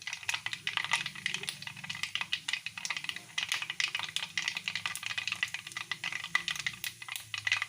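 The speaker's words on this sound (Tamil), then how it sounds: "கடுகு பொரியுது பாருங்கள்." Mustard seeds spluttering in hot oil in a pan, a rapid irregular series of sharp crackles and pops over a faint background hum.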